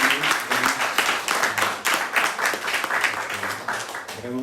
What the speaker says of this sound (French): On peut applaudir pour les accueillir.